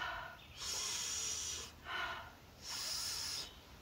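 Children take big sniffs of flowers at a school outdoor activity, three long breathy inhales in a row, close and fairly quiet.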